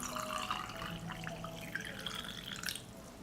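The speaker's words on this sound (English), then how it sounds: "I'll fill the jars with hot water." Hot water poured into glass jars, a faint running, splashing trickle with light drips and clinks, no talk.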